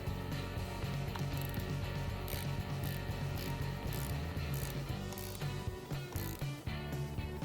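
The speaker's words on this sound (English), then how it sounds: "reinstall the positive battery cable onto the positive battery terminal, but don't pound these terminals on, as this can cause internal battery damage. Now we can tighten the fastener." A ratchet tightens the battery terminal fastener on a 2014 Volkswagen Passat with a fast series of close mechanical clicks. The ratcheting runs steadily over a constant background hum, with short pauses and a slightly uneven rhythm toward the end.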